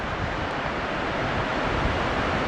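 River flowing at Riverside State Park near the Bowl and Pitcher campground, a steady, dense rush of water heard up close, continuous and loud with no pauses.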